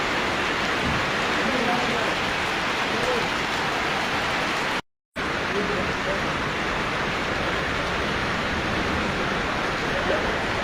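Heavy rain pours down steadily in Chandpur, a dense continuous hiss of drops on surfaces at fairly close range, unbroken apart from one momentary cut, with no voices heard.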